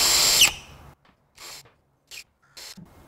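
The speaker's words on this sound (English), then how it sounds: "I'm going to first just drill a countersink hole." A power drill bores a countersink hole in a dolly build, a loud whirring burst up front followed by several short, quieter drill spurts separated by silence.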